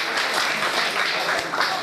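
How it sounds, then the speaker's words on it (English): Applause from an audience at a higher education programme orientation, a dense steady patter of many hands clapping throughout, moderately loud with no talk over it. "Claps."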